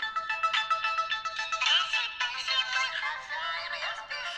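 Tinny MIDI ringtone from a Nokia 150 phone, a quick run of bright synthetic notes sounding continuously and fairly close.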